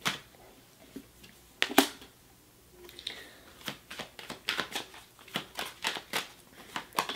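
Tarot cards being shuffled and handled: a few sharp flicks early on, then a steady run of brisk riffling slaps and crisp card snaps, close and fairly quiet, with no talking.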